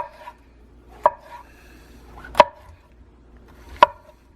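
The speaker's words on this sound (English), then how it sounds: "These will get cut fairly small into pieces that you're actually going to cook down." A knife cuts through mushrooms on a cutting board with three distinct, evenly spaced chops, each a sharp knock, in a quiet kitchen with no one talking.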